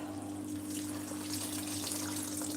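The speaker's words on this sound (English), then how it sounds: "Just going to add a cup of water now." Water being poured from a cup into a simmering pot of meat and potato curry, a steady, fairly quiet pouring and trickling wash over a low constant hum, with no voices.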